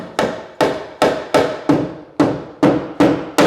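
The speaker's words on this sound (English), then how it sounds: "Give that a little knock home." A hammer knocks a glued wooden staircase joint home while fitting a staircase, eight sharp, evenly spaced taps ringing out close and loud with no talk.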